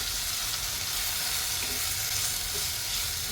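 Onions and tomatoes sizzle steadily in a hot pan for a fish fry, with faint scrapes of stirring through the constant frying hiss and no talk.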